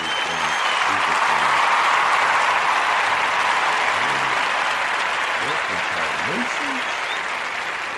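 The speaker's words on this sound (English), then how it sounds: "I'm gonna give everybody a round of applause while we wait for this" A crowd at a daily toast gathering gives a sustained round of applause, a dense, steady wash of clapping that holds loud for the whole stretch while a voice talks over it.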